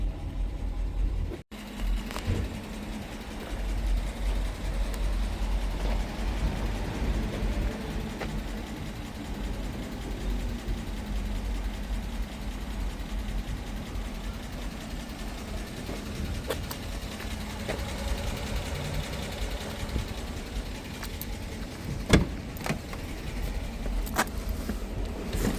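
A stock-exhaust Dodge Durango with a 5.7 Hemi engine idles with a steady low rumble, fairly quiet and continuous, with a brief knock near the end and no speech.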